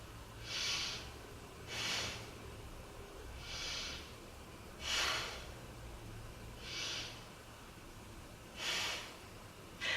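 Slow, deep breaths during a beginner yoga back-strengthening pose, six or so audible inhale-exhale bursts at a steady interval, close and fairly quiet with no talking.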